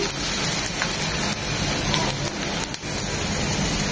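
Chopped onions with a pinch of salt hit hot soybean oil in a pan, giving a dense, even sizzle and crackle that holds steady, close and fairly loud for the whole moment.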